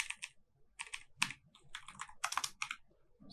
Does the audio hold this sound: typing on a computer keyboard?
yes